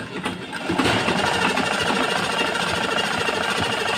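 A sewing machine stitches a one-inch hem on a blouse, its loud, rapid motor whir and needle chatter starting after a brief pause and running on without stopping.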